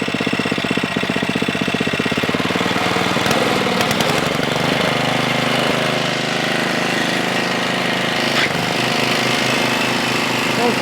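An Ariens 11528 snow blower with modified impeller roars loud and close as its engine revs up from idle to a steady full-speed drone with a pulsing mechanical rattle.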